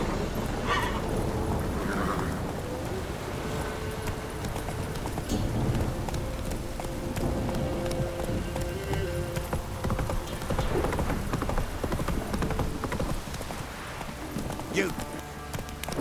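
Roach, a horse in The Witcher 3, gallops with steady clip-clopping hooves through a downpour, a continuous rhythmic patter under rain and ambient game sound, with a voice urging it on briefly.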